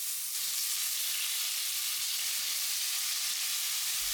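Turkey neck searing in ripping-hot oil in a thick pot, a continuous bright hiss and crackle of frying, close and even in loudness throughout, with no talking.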